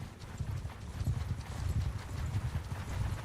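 War horse galloping in Mount & Blade Bannerlord, a steady rapid clip-clop of hooves carrying on throughout, fairly close and loud with no talk over it.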